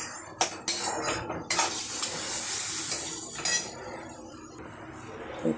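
Greens being stirred into a tempering in a cooking pan: clattering metal spoon knocks and scrapes against the vessel, a few sharp clinks then a denser rattling stretch, close up with no talk.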